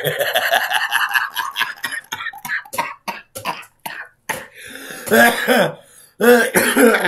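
A fit of laughter breaks into repeated coughing and throat clearing, with short gasps between bursts, close up.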